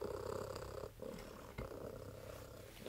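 A gray cat purrs steadily and close up, a continuous rumbling throb broken by two brief pauses as it breathes.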